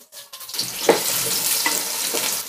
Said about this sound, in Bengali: এখন দিচ্ছি 2 কাপ পেঁয়াজ কুচানো।